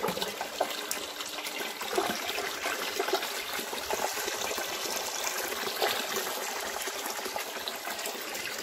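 A 60-watt submersible water pump pushes water through a thick one-inch pipe, giving a steady gushing, splashing flow at moderate distance that runs continuously without pause.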